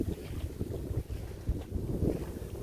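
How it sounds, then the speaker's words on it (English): Strong, steady wind by Lough Naglare lake in Cavan, Ireland buffets the microphone with a low, roaring rumble that swells and dips throughout, with no voices. "a biting wind, but I want to show you this beautiful expanse of water here."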